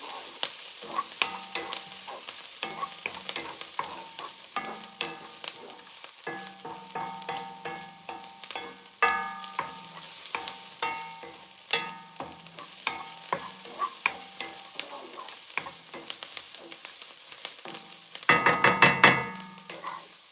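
Onions and garlic fry in a pan for an Egyptian omelette. A quiet, steady sizzle runs under frequent sharp clicks and taps of a utensil, then a louder bout of crackling and scraping near the end, with no talking.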